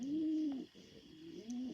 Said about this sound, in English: I have 5 birds, 5 doves. Well, they're rock doves.